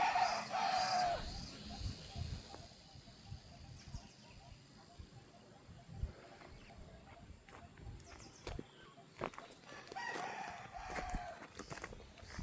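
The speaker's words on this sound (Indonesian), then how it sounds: "karena masih ada ayam berkokok" At the start a rooster crows once from some distance in a quiet village among terraced rice fields in Tapanuli, followed by scattered footsteps, light rustling and faint background sounds.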